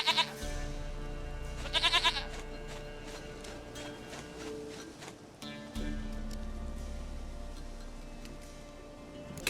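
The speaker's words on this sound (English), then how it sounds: "Goat of mine! Dearest, sweetest goat!" Goat bleating in the video game The Witcher 3: Wild Hunt, several loud wavering bleats, a short burst near the start and another around two seconds, over steady background game sound with light thuds.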